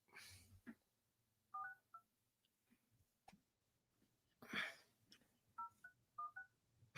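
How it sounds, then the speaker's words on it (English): A telephone number is dialed as a series of short beeping keypad tones in small groups, faint and close, with quiet gaps between presses. "He's dialing the phone."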